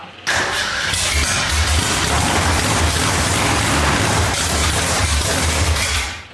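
A 1965 Ford Mustang engine cranks and catches, then runs loud and rough with a steady, aggressive low rumble for several seconds, recorded up close without voices.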